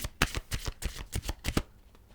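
A deck of cards being shuffled in quick riffling bursts, several rapid flutters close to the listener, then a quiet tail.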